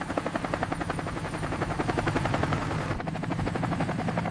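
A helicopter's rotor chops in a rapid, steady pulse, loud and continuous throughout.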